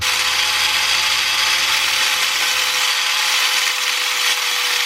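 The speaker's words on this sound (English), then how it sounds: "with this flap disc, trim this down a little bit" Flap disc on a grinder shaving down a metal bracket during a Subaru engine swap into a Volkswagen Vanagon: a loud, continuous abrasive whine and rasp, close and unbroken, with a low motor hum fading out partway through.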